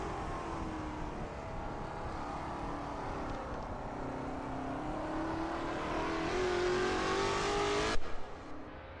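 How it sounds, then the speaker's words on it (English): A Lola T70 MkII Spyder race car in a racing video game at Brands Hatch, its engine droning steadily with a rising and shifting tone through Druids Bend, then cutting off abruptly near the end. "That ASRL T70 MkII Spyder looks good driving through Druids Bend."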